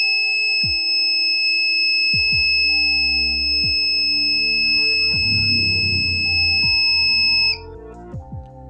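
A steady high-pitched electronic buzzer tone sounds continuously for several seconds, then cuts off abruptly, with some low thumps underneath.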